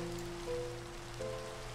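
Rain falls as a steady, even hiss of drops on a surface, a soft constant wash with a low hum running underneath.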